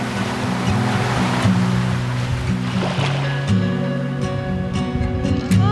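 Sea water and waves washing along the Jeju coast, a steady rushing surf with a low hum and a few faint tonal sounds toward the end, and no talking.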